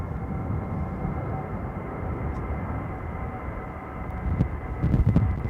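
An airliner going around after wind shear at Gatwick Airport in stormy weather, heard as a continuous low engine roar mixed with wind rumble that swells louder near the end.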